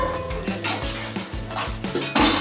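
Spoon stirring chicken and potatoes in a pot with the lid off, repeated clanks and scrapes against the metal in an irregular rhythm, close and fairly loud with a louder clatter at the end.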